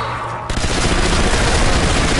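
Dense sustained automatic gunfire at a zombie in Zombie Army Trilogy, loud close rapid bursts running continuously after a brief quieter start, no talk over it.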